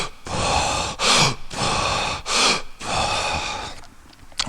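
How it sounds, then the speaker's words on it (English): A person doing yoga breathwork exhales forcefully in a series of long, loud, close breaths, each strong outbreath separated by a brief sharp inhale. "Breathing everything out,"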